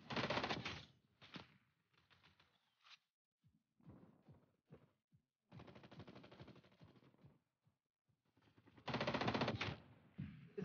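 Automatic gunfire in Call of Duty Black Ops Cold War on the Nuketown map, coming as several short rattling bursts of varying loudness with gaps between them, the loudest bursts at the start and end.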